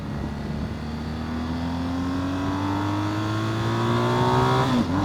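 A 2023 BMW R1250 GSA motorcycle pulls hard up through the gears, its engine note climbing steadily, loud and close, then dipping briefly at a gear change near the end, with no talking.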